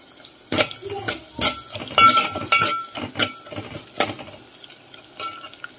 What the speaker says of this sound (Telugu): ఆనియన్ అవన్నీ కూడా ఫ్రై చేసి పోపు అయితే పెట్టేస్తాను. సో ఫ్రై చేస్తున్నానండి.